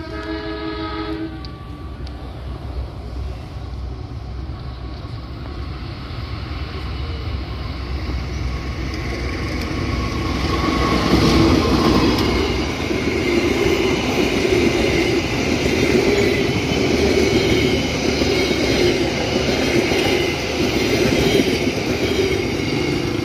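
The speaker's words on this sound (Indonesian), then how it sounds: "Kereta api Serayu sudah melintas di sini." The Serayu passenger train rolls past on new double track in Indonesia, with a long steady rumble of wheels and cars growing louder midway and a brief horn-like tone near the start, loud and continuous throughout.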